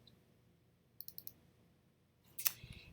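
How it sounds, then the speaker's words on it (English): A computer mouse button clicked in quick succession, a few small sharp ticks close up in a quiet room, followed by a louder brief rustle or knock. "now I'm going to double click it"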